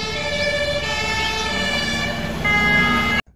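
A red toy fire truck sounds its electronic siren, a loud, steady wailing tone held close by that shifts pitch partway through and then cuts off abruptly at the end.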